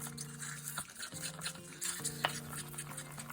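Pigments for a Duet resin painting are stirred in a cup, a quiet, steady scraping and swishing with light liquid drips close by.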